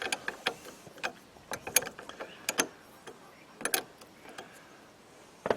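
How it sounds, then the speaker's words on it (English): A 1/2 inch wrench works loose the positive battery terminal on a 1999 Ford F-250 Super Duty, giving sharp metallic clicks and ratcheting taps in irregular bursts, close up with no talking. "I'm going to show you how to disconnect the positive. All I'm using is a 1/2 inch wrench here."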